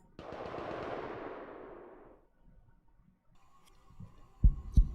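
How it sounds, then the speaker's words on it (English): Gunfire in the video game Rainswept: a long broadband burst fading over two seconds, then after a quiet gap two sharp, loud reports close together near the end over a low hum. "Seconds later, I heard gunshots."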